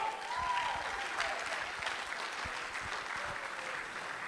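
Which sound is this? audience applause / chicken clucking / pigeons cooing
audience applause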